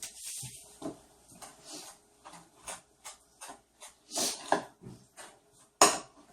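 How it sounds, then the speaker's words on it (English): A spoon scrapes and clinks in a bowl while butter, brown sugar and flour are mixed for a sweet potato casserole topping, giving irregular soft knocks and scrapes with pauses between strokes, fairly quiet and close. "Alright, so I'm just mixing in the butter, the sugar, and the flour"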